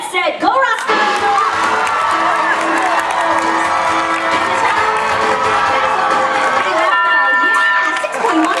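A crowd at a dog race at a Disneyland animal show cheers loudly and continuously, with whoops and children shouting, while an announcer's voice carries over the roar.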